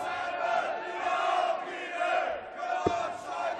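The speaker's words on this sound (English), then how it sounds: "a round of applause from his other half, Joe" Darts crowd at the 2019 Dutch Darts Masters during Peter Wright's match against Whitlock, a steady roar of cheering and applause from a large arena audience that swells and holds throughout, with a single sharp thump near the end.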